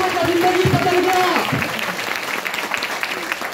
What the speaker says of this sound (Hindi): आज सोचो उनके लिए जोरदार ताली होना चाहिए।